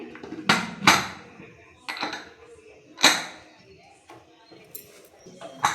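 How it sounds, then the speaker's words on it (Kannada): Metal clanks and scrapes of a pressure cooker lid being fitted and pressed shut, several sharp knocks spaced irregularly, close by, with soft voices between. "ಇವಾಗ ನಾನು ಕುಕ್ಕರ್ನ ಕ್ಲೋಸ್ ಮಾಡ್ತಾಯಿದ್ದೀನಿ."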